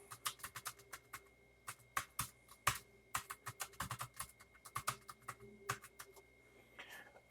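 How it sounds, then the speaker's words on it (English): Fingers tap out quick, uneven bursts of keystrokes on a computer keyboard while entering text in LightBurn laser software, close and crisp with short pauses between clusters. "it brings up the cursor and you can start typing"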